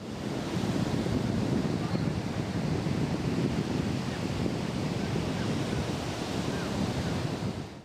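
Waves roll and break on a windy sea at Bilgah beach on the Caspian coast, a loud, dense, unbroken roar of surf mixed with wind buffeting the microphone.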